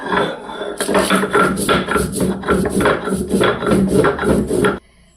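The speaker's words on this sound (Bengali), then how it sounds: "এই ভাজা মশলাটা আমি গুঁড়ো করে নেব।" Roasted spices being ground to powder in a kitchen for sweet jujube (kul) pickle, a continuous gritty whirring grind that runs steadily for several seconds, then stops abruptly.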